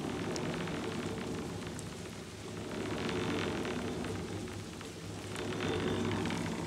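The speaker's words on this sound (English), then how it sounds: "Beach walking in the rain." Steady rain falls on a beach along a coastal hiking trail, a continuous dense hiss with wind-like swells in level and no speech.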